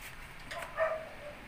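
A faint dog barks once or twice at a distance, muffled as if outdoors, against a quiet background hum.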